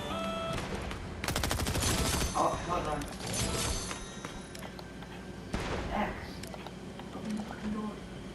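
Fortnite gunfire crackles in repeated bursts and single shots, moderately close, mixed with thuds and game effects while a player talks throughout.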